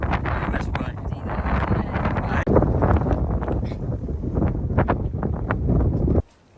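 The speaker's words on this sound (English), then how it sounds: "Very windy though, isn't it?" Strong gusting wind buffets the microphone on a riverbank at dawn, a loud, continuous roar that swells and eases before cutting off abruptly at the end.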